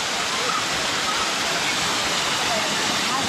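Masila waterfall in the Kolli Hills, a steady, dense rush of falling water roaring continuously and close by, with no breaks or other sounds rising above it.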